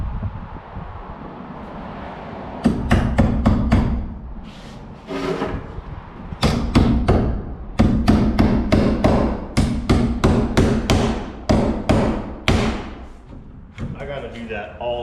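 Hammer driving long Simpson nail plates onto wooden wall studs, bursts of loud rapid blows in quick runs with short pauses, close by, with someone talking between strikes.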